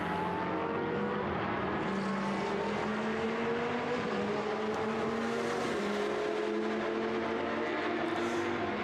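Historic race cars, among them KTM, Ferrari, Jaguar and Porsche machines, race at the Red Bull Ring, several engines howling together in an unbroken stream with rising and falling pitch as they pass, loud and steady throughout.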